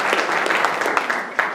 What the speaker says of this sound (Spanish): Démosle un fuerte aplauso a nuestro Señor